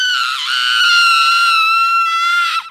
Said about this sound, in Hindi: आज भी आत्माओं की चिल्लाने की आवाज